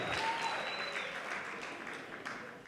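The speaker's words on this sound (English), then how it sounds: "I think they deserve a round of applause as they exit the stage." Applause for a marimba band as they leave the stage at a prize ceremony, a steady wash of clapping from a crowd that is fairly faint and fades slightly toward the end.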